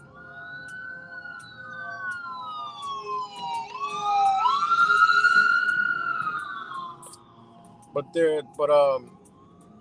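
An ambulance siren wails, its pitch rising and falling as it passes, then cutting into a few short, choppy yelps near the end, loud and clear over faint background.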